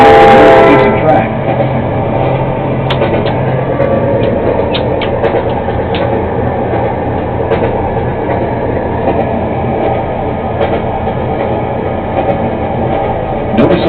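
Freight train in Norfolk Southern Train Simulator game, loaded with shipping containers, rumbling steadily and loud throughout with rattling wagons and brief horn-like tones, under a spoken narration.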